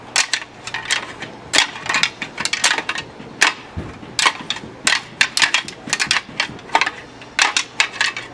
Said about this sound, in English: In my hands I have rattling antlers, and this is what it sounds like when two deer are fighting